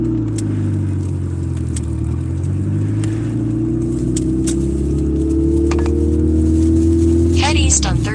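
A car engine hums and revs steadily, close and loud, rising in pitch near the end, with a few small clicks and rattles over the drone.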